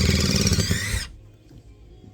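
A Milwaukee M12 Surge impact driver runs loud and close with a dense, high whirring whine for about a second, then cuts out sharply, leaving a low quiet tail.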